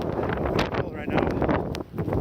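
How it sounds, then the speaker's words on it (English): Gusty wind during a snowstorm buffets the microphone in rough, uneven surges, loud and close throughout. "the wind is picking up"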